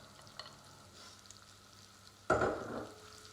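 Rice tipped into hot oil in a pan sets off a sudden loud sizzle and crackle that fades slowly, after a quiet stretch with faint kitchen clatter.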